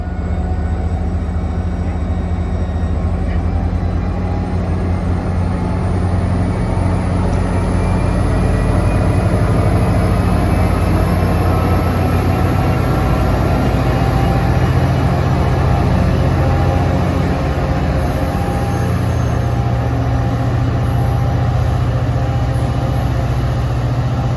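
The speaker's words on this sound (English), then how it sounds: "Capturing Caltrain like this, I'm never going to see it again." A Caltrain passenger train rumbles past loudly on the San Francisco Peninsula, with a continuous heavy low roar of engine and wheels, a high steady whine above it, and no speech.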